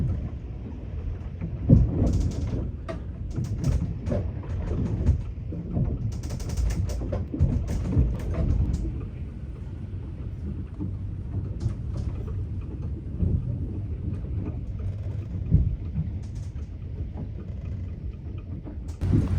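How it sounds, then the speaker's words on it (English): A storm roars around a yacht at anchor off Atlantic City, a dense, continuous rumble of strong wind with crackling gusts and rain-like hiss, no voices. "we have so strong wind here"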